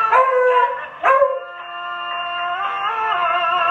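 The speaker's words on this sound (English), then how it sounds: "if you can hear me over the dog barking." A dog howls and yips indoors, two sharp rising cries followed by a long, sustained, wavering howl, loud and close with no talking over it.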